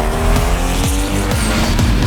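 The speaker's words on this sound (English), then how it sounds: "Driving a Mark IV Supra." Modified Toyota Mark IV Supra driving hard, loud, continuous tire squeal over a roaring engine, with repeated rising and falling pitch sweeps as the car slides, close and intense throughout.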